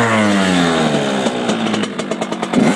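A Kawasaki KX dirt bike engine starts and revs in quick, rising bursts, ending in choppy, sputtering blips close by.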